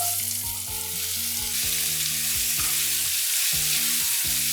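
Garlic and onion fry in a pan for a whole red lentil curry, a steady loud sizzle with scraping stirs and clinks of a utensil throughout, close and continuous with no talking.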